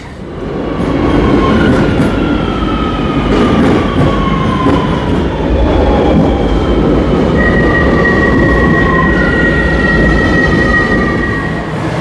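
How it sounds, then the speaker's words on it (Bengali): A metro train pulling into an underground station in Barcelona, with loud continuous rumbling, rail roar and long squealing brake tones sliding in pitch, close and dominant throughout with no talk. "মেট্রো চলে আসছে"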